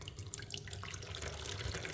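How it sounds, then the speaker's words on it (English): Water runs from a tap into bread dough made with minimal ingredients, a soft continuous trickle and splash lasting a couple of seconds. "I'll be adding more water again"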